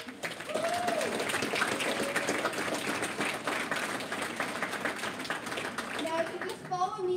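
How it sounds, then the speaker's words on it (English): Steady applause from a fringe festival audience fills the whole stretch, with a few voices and cheers mixed in near the end. "so a big round of applause for them."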